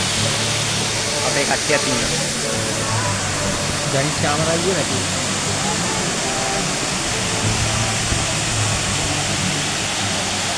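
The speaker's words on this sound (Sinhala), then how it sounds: "අපි දැන් ඇවිල්ලා ඉන්නේ මේ බේකත් ඇල්ල බලන්න" Baker's Falls roars as a steady, loud, unbroken rush of falling water, with people talking over it for much of the time.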